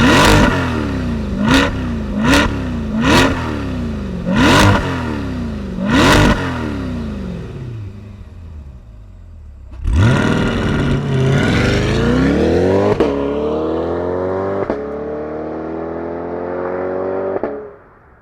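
A Corvette C8 Stingray 70th Anniversary Edition V8 blips through a rapid run of sharp throttle revs, then holds a long, loud rev that sweeps up and falls back to a settling idle, close and alone.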